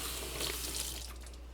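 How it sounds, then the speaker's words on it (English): A spoon rinsed under a running kitchen tap, a short burst of close, steady water flow with no talk. "Rinse my spoon off."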